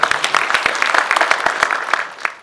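An audience at a signing ceremony between Indonesia's environment and forestry ministry, its public works ministry and Sinar Mas breaks into brief applause, with sharp, fairly close claps rattling unevenly before fading out.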